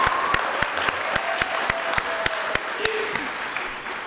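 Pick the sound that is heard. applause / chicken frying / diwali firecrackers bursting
applause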